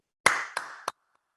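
Three sharp hand claps, close and evenly spaced, made as a mock Jason Garrett gesture, each with a short decay into silence.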